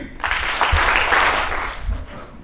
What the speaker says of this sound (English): You just clap very loudly according to the number what I am telling.